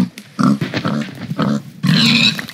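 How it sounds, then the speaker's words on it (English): A pig in a video game grunts in several close, loud bursts of varying length, ending with a longer, higher squealing grunt. "Hello, pig."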